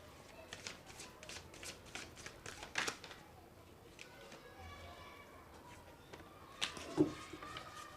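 Oracle and tarot cards being shuffled: a quiet run of soft, rapid riffling flutters and slaps in close succession, with occasional sharper clicks, no words spoken.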